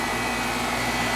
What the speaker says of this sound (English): It's got an A.O. Smith 1100 revolution per minute fan motor, typically used in these units.